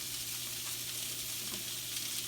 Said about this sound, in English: it don't take long on this corned beef to warm up